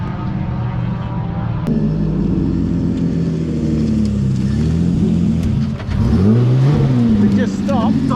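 A Nissan 180SX engine runs loud and close, its rumble rising and falling as it is revved, with a brief dip near the end before it carries on, while people talk over it.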